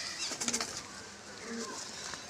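Kaldhuma Kalpora Madras pigeons kept in a loft, giving soft low coos with a brief burst of wing flapping near the start, heard up close against steady background noise.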